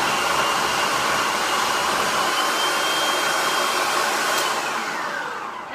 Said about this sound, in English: we're just going to blend that and puree it until it's a nice creamy texture